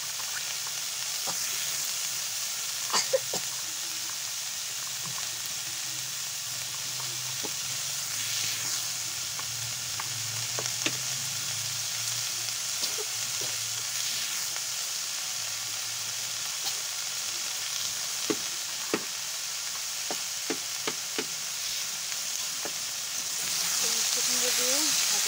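Sweet pumpkin pieces fry in a pan with a steady, even hiss of sizzling oil broken by scattered small clicks and stirring taps, and a faint voice murmurs in the background at times.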